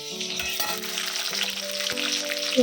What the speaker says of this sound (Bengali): পাশে কড়াইতে বেবিকর্নগুলো ভাজা হচ্ছে